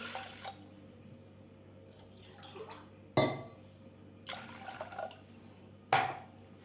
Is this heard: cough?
no